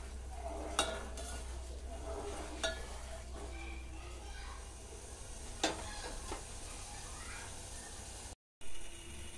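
Sugar melting in a pan while being stirred for gelatine jelly, with a soft steady sizzle, a few faint spoon clinks against the pan, and a short break near the end.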